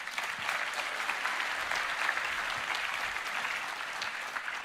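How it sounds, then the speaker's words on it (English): A large audience at a Roblox developer keynote claps continuously, a dense, even wash of applause that holds steady throughout without voices standing out. "So I want to give a huge round of applause to these two games for the milestones they achieved."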